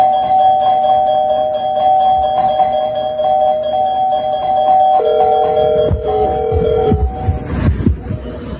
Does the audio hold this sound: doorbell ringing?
yes